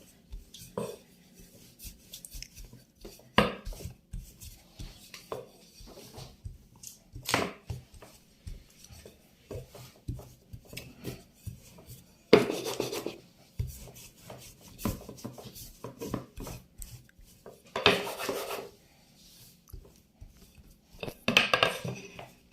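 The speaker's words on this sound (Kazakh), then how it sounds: "Енді екінші қамырымызды жая бастаймыз." A rolling pin working dough into a rectangle for a Kazakh home-cooked dish, quiet scraping and rubbing strokes with occasional taps and knocks on the board, irregular rhythm, close and soft with no talking.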